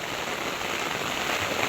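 Heavy rain pours down steadily, a dense, close, unbroken hiss of drops striking surfaces with no voices over it.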